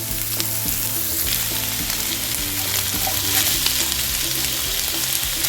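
Onions sauté in a pan ahead of fried rice, a loud, continuous close sizzle with occasional faint stirring scrapes and no voices.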